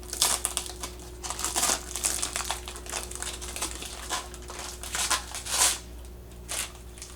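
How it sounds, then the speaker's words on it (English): Protective plastic film peeled off a new Orico 6139U3 USB 3.0 3.5-inch external hard drive dock, giving close crinkly crackles and rustles in uneven bursts over a low steady hum. "And everyone loves the plastic peel."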